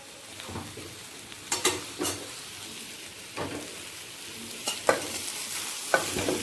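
Potato, pointed gourd and soybean fry with turmeric and salt in a pan for a katla fish curry; a low sizzle runs beneath spaced, distinct stirring scrapes from a spatula.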